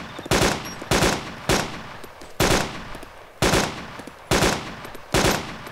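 Rifle shots ring out at players in DayZ, seven sharp loud cracks at irregular intervals, each trailing off in a short echo, with no talking over them.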